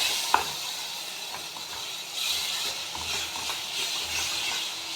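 Masala of Kashmiri red chilli powder and garam masala sautéed in oil for kabuli chana, a continuous close sizzle with scraping stirs and a sharp clink at the start.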